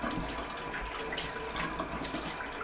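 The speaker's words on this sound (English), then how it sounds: "Then rinse it off, rub it up good, get all that dirt off there." Tap water runs steadily over a potato being rinsed and rubbed clean in a sink, a close, soft splashing stream with small irregular splatters and no talking.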